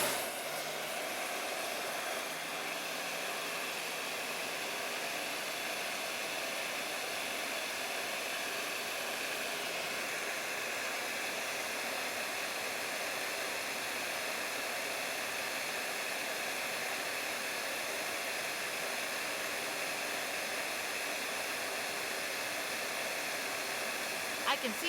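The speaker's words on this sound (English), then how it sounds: "And I got my heat gun." A heat gun blows a steady, even hiss while melting solder on motorcycle wiring during a plasma rod install, running close and unbroken for the whole stretch.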